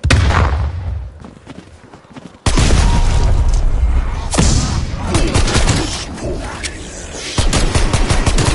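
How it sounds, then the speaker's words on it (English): A stun grenade going off in a zombie-shooting video game, a sudden loud blast cutting in after quieter shuffling, followed by a lingering roar with further bangs and impacts. "Stun grenade out."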